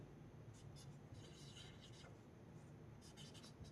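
A pen writes on paper during a maths lesson, giving a faint, steady scratching under a low background hum, with short bursts of strokes.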